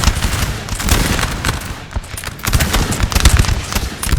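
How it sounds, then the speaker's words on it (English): Large Austrian infantry units fire musket volleys in a Napoleon Total War multiplayer battle, dense overlapping cracks rolling almost continuously, loud and close, with no pauses. "Constant fire there from the Austrians"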